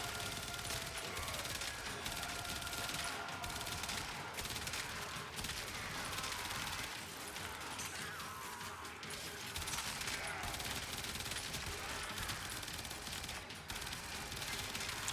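Ambassador automatic rifle firing in Warframe, a steady stream of rapid gunfire with mechanical clatter that is continuous and dense throughout, fairly quiet in the mix.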